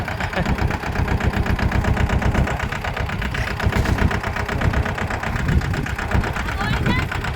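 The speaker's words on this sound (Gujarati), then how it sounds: "જોયો ટ્રેક્ટર આગળ આમ" A tractor engine idles nearby on a farm with a steady, rapid chugging knock, loud and continuous, while someone talks over it.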